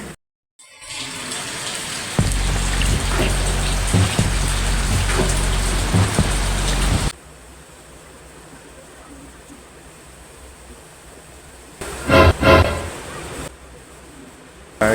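Steady rain pours down, a loud dense hiss for the first half before dropping to a softer, quieter patter, with a brief louder burst near the end.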